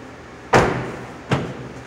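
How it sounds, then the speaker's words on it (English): Honda car door shut twice at a dealership vehicle demo, two solid thuds about a second apart, the first louder and the second slightly lighter, close and alone with no talk. "Close that door."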